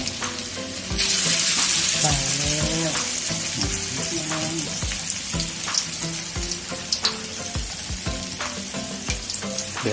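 Bamboo shoot fish cakes (tod man) fry in hot oil with a steady, dense sizzle and bubbling, joined by occasional clinks and stirring knocks throughout.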